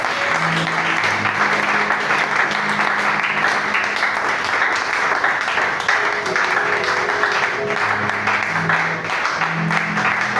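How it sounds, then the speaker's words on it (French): A church congregation at a Christmas celebration applauds loudly and continuously, a thick, sustained roar of clapping with music tones running underneath throughout. "Applaudissez très fort pour lui."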